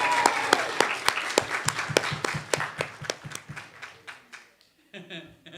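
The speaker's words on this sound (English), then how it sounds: "Now, applause." Audience clapping at a church service, a burst of applause with distinct claps that thins out and fades over several seconds, followed by a brief rustle of room noise.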